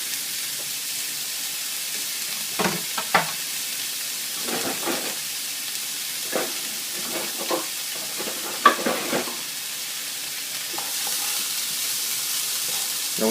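Vegetables sweating in a pan over medium heat for seafood fettuccine, a soft continuous sizzle and hiss with scattered light stirring scrapes, close and even throughout, no voices.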